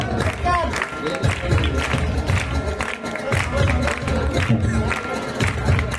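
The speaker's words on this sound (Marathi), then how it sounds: "बराच जल्लोष म्हणजे विद्यार्थ्यांचा" A lively crowd of students at a school taluka-level sports meet cheers and claps, with shouts and chatter mixed in, steady and loud throughout.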